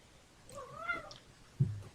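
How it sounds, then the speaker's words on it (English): A single cat meow, fairly faint with a rising and falling pitch, followed by a short thump in a quiet room. "I just heard a cat. I heard a meow."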